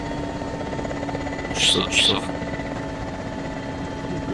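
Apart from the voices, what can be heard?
helicopter flying in the video game ArmA 2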